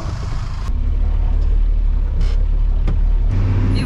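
An expedition motorhome drives along a road in Albania following another car, its engine giving a steady, loud low rumble with road and wind noise, without speech.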